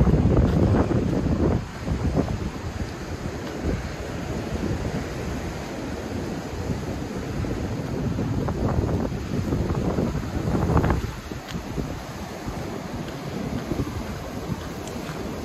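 High waves crash against rocks along a seaside promenade at Cala Ratjada, Mallorca, in strong wind, a continuous broadband roar with repeated surges and heavy wind buffeting on the microphone.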